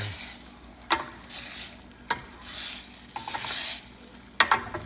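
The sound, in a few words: stirring chicken in tamarind soup pot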